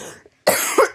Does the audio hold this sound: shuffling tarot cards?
no